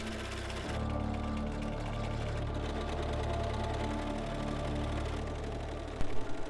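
A serger overlocks the raw edges of silk bodice pieces, its motor whirring in a steady continuous run close by, with a brief stop and restart near the end.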